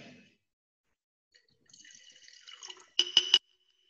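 Chemical liquid poured into a container during a school chemistry demonstration: a faint thin trickle lasting about a second, followed by three quick sharp clinks, no talking.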